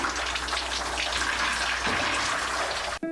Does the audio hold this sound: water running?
yes